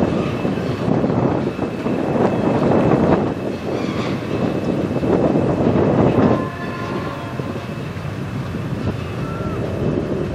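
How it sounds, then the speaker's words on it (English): An industrial CN freight train passes in Sarnia, Ontario, its broadband rumble and wheel noise steady and fairly near, swelling and easing slightly across the pass, with a faint sustained whine above the roar and no talk. "Not a very big train, but it is an industrial,"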